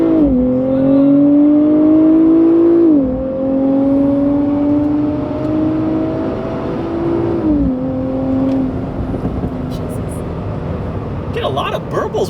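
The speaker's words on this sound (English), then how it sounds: "A lot of burbles when you're in Sport Plus mode" A Nissan Z NISMO in Sport Plus mode drones and shifts under engine load, with exhaust burbles and crackles toward the end, heard from inside the car while a person talks over it.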